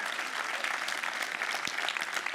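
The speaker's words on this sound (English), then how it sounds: "A warm round of applause." A hackathon closing ceremony audience applauds, a steady, fairly loud patter of many hands clapping throughout, with no talking heard over it.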